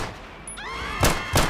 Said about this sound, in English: let's start with the pistol, the pistola.